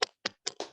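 Four sharp hand claps in a classroom counting game, evenly spaced and close, each a crisp burst with silence between them.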